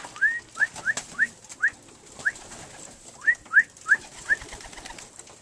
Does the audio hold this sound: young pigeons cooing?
yes